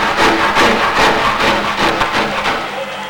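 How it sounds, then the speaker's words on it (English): A hacksaw blade cuts into a composite aircraft winglet on the draw stroke, producing loud, close, rhythmic rasping strokes about every half second, with no voices. "Hacksaw blade cutting on the draw."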